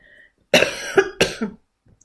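A cluster of three or four harsh coughs close to the microphone, loud and abrupt, followed by silence.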